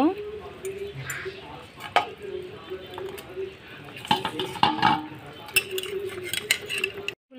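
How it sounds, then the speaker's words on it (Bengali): Fried rui fish is added to a pot of curry with potatoes and long beans, bringing clinks and clatters of utensils against the pot over a low background hum, close and uneven. "এখন আমার ভাজা মাছগুলো দিয়ে দিব।"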